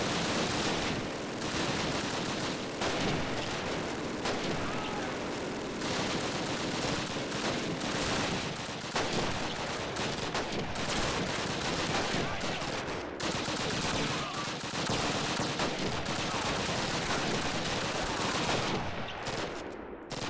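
Sustained battlefield gunfire in Call of Duty, a constant wash of rifle and machine-gun shots near and far under dense combat noise, loud and unbroken throughout, with occasional speech mixed in.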